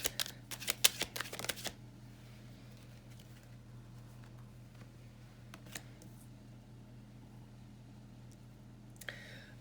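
A deck of tarot cards gets riffled and shuffled in a quick burst of crisp flutters near the start, then a long hush with faint taps and a brief shuffle at the end.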